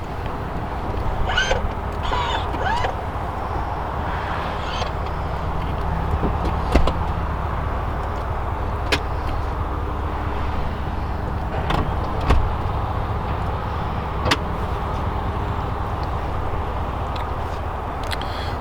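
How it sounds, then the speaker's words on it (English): Motorized rear seats folding down in a 2015 Cadillac Escalade, a steady low electric motor whir running throughout with a few faint clicks and thuds, close by inside the cabin, no talking. "Also have a power folding down rear seats."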